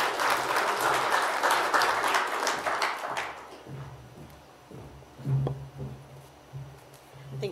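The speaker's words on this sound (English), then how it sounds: "One more round of applause" Audience applause follows the end of a talk on black lung and radiology, dense clapping for about three seconds that then tapers into a quiet room with scattered shuffles.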